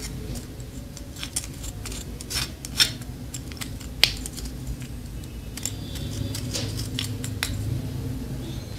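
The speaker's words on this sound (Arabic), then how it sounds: "هنقلب الحنة مع الكركم." Three spoonfuls of henna powder and one and a half spoonfuls of turmeric powder are stirred together, giving a steady gritty rasping with scattered sharp clicks and scrapes at close range.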